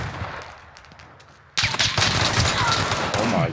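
Call of Duty: Modern Warfare gunfire during a tournament match, erupting halfway through into loud, dense bursts of rapid shots and explosions after a quieter stretch of distant fire.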